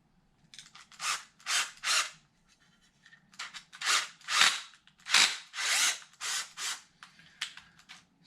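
A power drill drives bolts into the wing of a custom-built Arrma Infraction RC car, with about eight short, loud whirring bursts that rise and stop, a brief pause in the middle, close by and with no talking.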